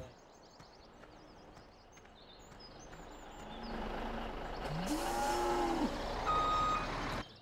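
Cattle on a Michigan farm in Farming Simulator 17 moo in drawn-out low calls, mid-distance, over a steady engine hum with intermittent reversing beeps from machinery.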